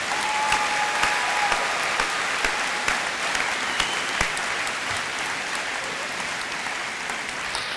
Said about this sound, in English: Would you join me again in another round of applause for the Angola High School Band Players?